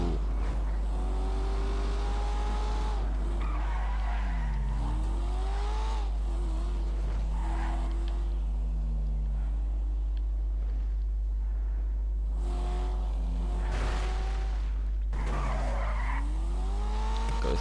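A powerful car in a GTA video game driven hard, with engine revs rising and falling in repeated surges and long tire squeals and skids, loud and close, separated by brief lulls.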